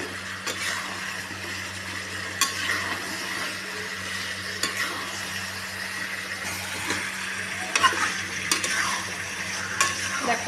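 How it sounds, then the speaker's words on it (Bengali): Potatoes being stirred into spiced chicken curry in a frying pan: a steady, close sizzle with irregular spoon scrapes and clinks against the pan over a low, constant hum. "আলুগুলো দিয়ে এটা আমি একটু নেড়ে নেবো ভালো করে"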